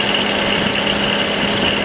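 Worn drive belt tensioner on a running 2006 BMW X3 with the 3.0L engine, a steady close engine idle carrying a continuous whirring, faintly squealing whine with no pauses and no voices.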